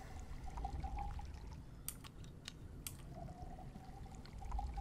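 In the video game Desolate, gathering water makes a soft, quiet pouring sound effect, a gentle liquid splash with faint ticks over a low background hum.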